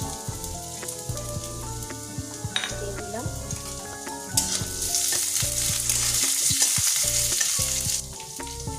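Potatoes fry in hot oil until golden brown, a loud continuous sizzle with a metal spoon stirring and scraping the pan, the crackling swelling louder toward the end.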